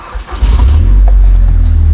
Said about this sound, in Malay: So kita sekarang cuba start.